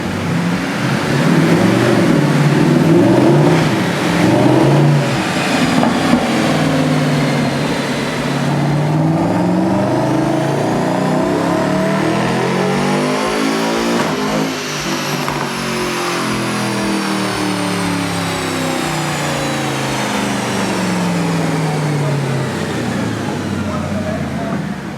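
Mercedes-Benz AMG car engine on a dyno, revving loud and steady with a rising pitch sweep and continuous roar throughout, a voice talking faintly underneath at points.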